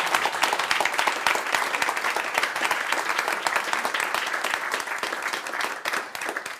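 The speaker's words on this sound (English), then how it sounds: "Can we have one big round of applause for our panel," A conference audience applauds a climate change panel, steady dense clapping from many hands filling the whole stretch at a moderate distance.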